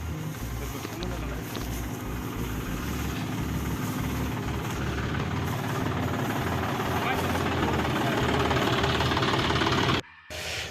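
A Harvestar 75 hp tractor engine runs at night, a loud steady low chugging drone with rhythmic knocking pulses, cutting out briefly near the end before resuming.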